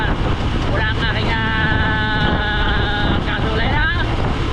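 An old motorboat engine running out on the water, a loud constant droning rumble with buffeting wind noise, with a person speaking over it.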